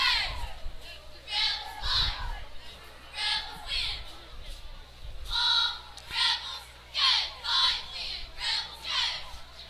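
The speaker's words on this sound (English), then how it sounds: "Great crowd here tonight." A crowd at a night high school football game in mid-October cheers and shouts in rolling bursts, rising and falling several times across the stretch, fairly distant and moderately loud.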